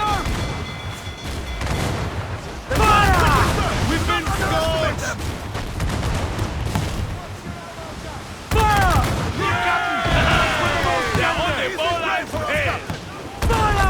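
Ship cannons firing at enemy ships in Assassin's Creed IV Black Flag, two heavy booming volleys breaking out amid a noisy naval battle, with shouting voices and whistling effects around them.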